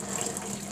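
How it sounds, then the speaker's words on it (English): Cold water pours steadily into a container for raspberry jello, a soft continuous gushing with no talking. "We need to add cold water now."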